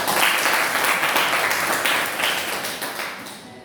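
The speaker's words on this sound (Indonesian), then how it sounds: "tepuk tangan untuk." A classroom of students claps for a classmate, a broad, dense burst of applause that starts loud and gradually tapers off over a few seconds, with no voices over it.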